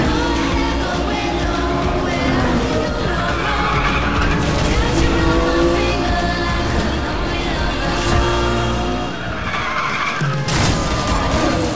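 Race car in the Need for Speed The Run video game, engine roaring continuously with long skidding tire squeals throughout, loud and close, with a voice speaking briefly over it.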